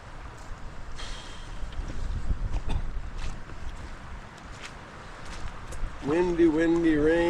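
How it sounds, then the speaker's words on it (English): Wind roars and buffets the microphone in a steady low rumble by a big lake on a back-country canoe trip in windy, rainy weather; near the end, a voice starts up over it. "Windy, windy, rain, rain."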